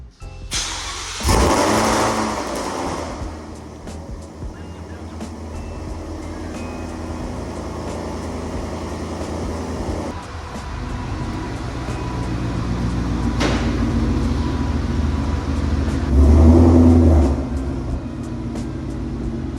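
A car's loud aftermarket exhaust fires up and revs in several surging bursts, the roar swelling near and overloading the microphone at the final rev, with no talk.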